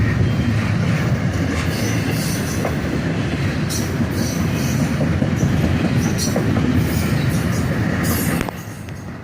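A CSX hotshot intermodal freight train with a second DPU locomotive in the rear half rolls past close by, a loud, steady rumble with clickety-clack of wheels and occasional squeal, dropping off abruptly near the end.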